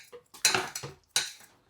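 Dishes, pots and steel utensils clatter in a home kitchen, several sharp metallic clinks and scrapes in quick, uneven bursts, close by and with no talking.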